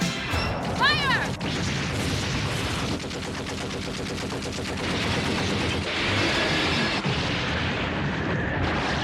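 Gunfire in an anime battle between mecha and police units, with dense, continuous bursts of shots and crashing impacts layered with shouted voices and a chaotic, loud soundtrack.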